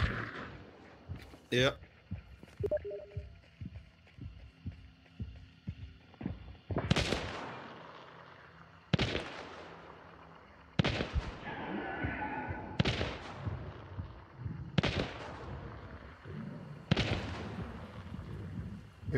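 Rifle shots ring out during a hunt: about six loud, sharp cracks spaced a second or two apart, each with a brief echoing tail, while people talk quietly between them.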